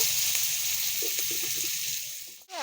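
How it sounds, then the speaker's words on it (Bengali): Potatoes hit hot oil already tempered with cumin seeds, giving a steady close sizzle that crackles on through the moment, then a brief clatter and tail near the end. "আগে জিরা ফোড়ন দিয়ে দিয়েছি এখন আলুগুলো দিয়ে দিব"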